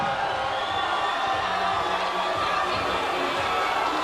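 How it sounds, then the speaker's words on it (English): A crowd at a cage fight roars in a steady, dense wash of cheering and shouting that holds at full loudness throughout, with a voice or two faintly audible under the din. "there's a lot of excitement in the crowd"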